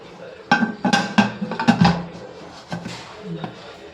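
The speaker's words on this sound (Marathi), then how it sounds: "कुकरची शिट्टी काढायची. शिट्टी काढून झाकण लावायचं." Whistle pulled off a pressure cooker and the lid set on while making dhokla, a close run of metallic clinks and clanks over about two seconds, then a few lighter knocks, with no talk.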